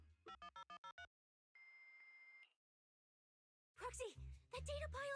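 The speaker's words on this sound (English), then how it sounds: "That data pile you hacked into just beeped!" An electronic beep from a hacked data pile in the video game Zenless Zone Zero: a single steady tone of about one second, sounding alone between bursts of game chatter and voices.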